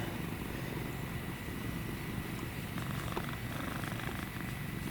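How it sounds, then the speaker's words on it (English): A cat purrs steadily and continuously, a low rumbling drone close by with no talking. "I hear you purring."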